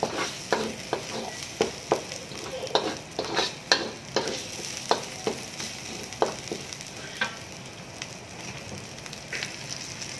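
Ingredients stir-fried in oil in a pan with chili paste, a steady quiet sizzle broken by repeated scraping and stirring clacks of a utensil, close by, with no speech.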